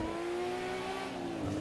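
An S14 car drifts in a racing video game played with a wheel, pedals and handbrake: a loud, sustained engine whine holds a steady high pitch and dips slightly near the end, with no voices over it.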